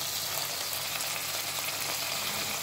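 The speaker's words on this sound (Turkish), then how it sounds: "Şimdi soğanlarımı koyacağım." Onions sizzle with browned meat in a pan for an okra stew, a steady close crackling fry with no voices.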